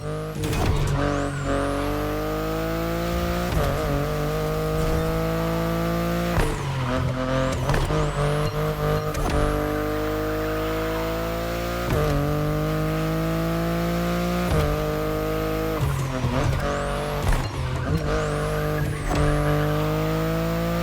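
A BMW i8 hybrid sports car driven hard in The Crew Motorfest, its engine droning loudly and steadily through repeated gear shifts, with tire squeals cutting in now and then.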